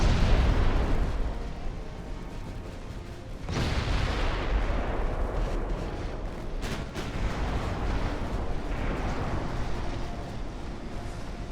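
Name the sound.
ammunition detonation explosion in naval battle video game Ultimate Admiral: Dreadnoughts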